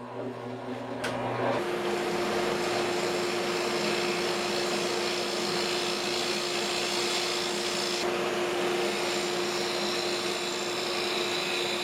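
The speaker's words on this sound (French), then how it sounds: "Maintenant, je vais creuser le centre pour éliminer les trous que j'ai fait tantôt." A power tool grinds and rasps steadily into wood, hollowing out the centre of a wooden phone-holder piece, a dense continuous abrasive whir heard up close with no talking.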